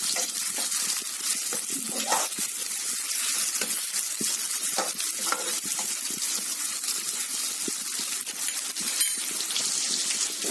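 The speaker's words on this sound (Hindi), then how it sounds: "प्याज को हम अच्छे से फ्राई कर लेंगे।" Onion frying in four tablespoons of hot oil in a pan, a steady close sizzle and hiss with small crackles running throughout without talk.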